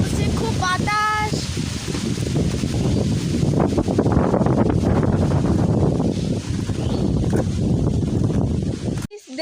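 Strong wind gusting outdoors under a darkening sky, a loud continuous roar battering the microphone for nearly the whole stretch before cutting off abruptly at the end.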